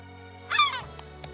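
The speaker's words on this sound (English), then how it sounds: "Man, those seagulls are loud." A single loud honking seagull cry from the video game Chained Echoes, short and close, over a steady low game ambience, followed by a couple of faint clicks.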